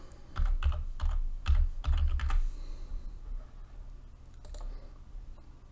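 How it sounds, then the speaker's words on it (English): Rapid bursts of keystrokes clatter on a computer keyboard for the first couple of seconds, then settle into a few scattered, lighter taps against a quiet room background. "I'll call it tutorial"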